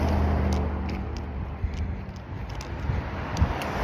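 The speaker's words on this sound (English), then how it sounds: "And let's listen to this car here." A car passes on a nearby street, a broad low rumble swelling and fading under steady wind buffeting the microphone, with faint footsteps and small knocks along a walk home.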